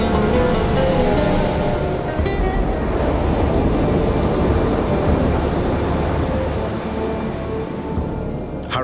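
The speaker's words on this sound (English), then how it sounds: "A winter storm has gathered in the North Atlantic." Winter storm waves crash continuously around the Canary Islands, a loud churning roar of surf with gusting wind buffeting close by and no voices.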